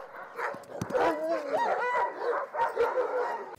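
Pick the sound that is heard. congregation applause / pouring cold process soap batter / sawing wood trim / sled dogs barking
sled dogs barking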